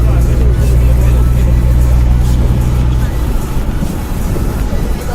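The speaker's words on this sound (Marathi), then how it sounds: "आता ब्लॉगर आमचे गाडी चालवत आहे" A car engine drones steadily from inside a vehicle moving near Mandangad, loud and continuous, the low hum easing slightly partway through.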